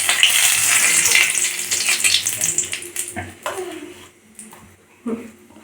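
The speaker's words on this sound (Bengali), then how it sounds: "তেজপাতা দিয়ে দিচ্ছি।" Bay leaves dropped into hot oil for a Bengali-style chicken skin curry, a loud close crackling sizzle at first that fades to quieter spatter and stirring, with a voice speaking briefly near the end.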